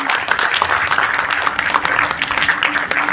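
Audience applause at a school dance competition in Dehradun, Uttarakhand, honouring a student's third-place folk dance prize: steady, dense clapping from a crowd, even and sustained with faint voices mixed in.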